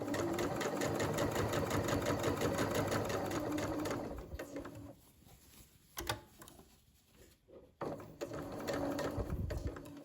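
A sewing machine stitches a shirt seam in a rapid, even mechanical chatter for about four seconds, then stops, leaving quiet handling noises and a few brief clicks before another short burst of stitching.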